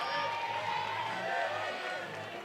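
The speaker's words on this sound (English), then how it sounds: "And the French crowd really getting behind Helene here." A crowd cheering for a French climber at a lead climbing World Cup semi-final in Chamonix, a sustained, steady roar of voices at a distance, under faint talk.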